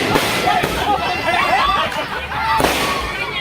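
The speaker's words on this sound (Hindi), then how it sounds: "बहुत पटाखे फूट रहे हैं अगल बगल" Firecrackers burst nearby in a residential railway colony in Chittaranjan, West Bengal, sharp cracks and pops landing every second or so over a background of chatter and crowd noise.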